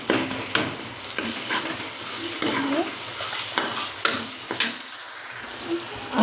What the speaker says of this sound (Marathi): हे बघा किती मस्त झाला बेसनचा तडका.